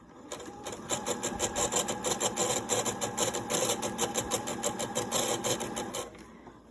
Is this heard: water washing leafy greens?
no